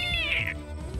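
A single high, thin meow from a kitten, close and clear, lasting about half a second.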